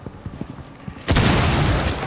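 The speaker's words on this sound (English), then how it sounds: "Throw a grenade." Grenade explosion in the Rainbow Six Siege video game, a single loud booming blast about halfway through, preceded by soft footsteps and movement, with a lingering rumble afterward.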